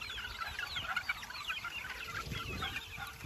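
A group of young chicks cheeps continuously in dense, overlapping high peeps, close and fairly loud, with no voices.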